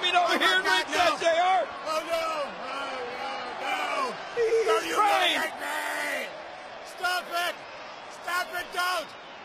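In a wrestling ring, a man bellows and yells in distress as he is shaved bald, his voice loud and strained over a roaring arena crowd, with other voices shouting around him.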